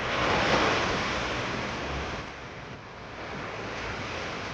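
Ocean surf at a beach, a steady broad wash of breaking waves with wind rumble on the microphone, loud and continuous throughout without any voices.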